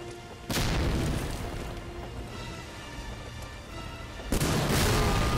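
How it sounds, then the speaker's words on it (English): A grenade bursts in the video game Medal of Honor: Allied Assault Breakthrough, a loud, dense boom that rolls on at length, with a second heavy blast hitting near the end. "Grenade!"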